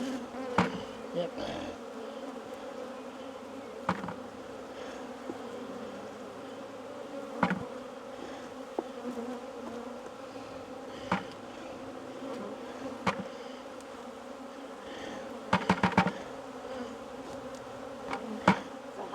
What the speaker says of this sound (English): poor little bees, going to lose a few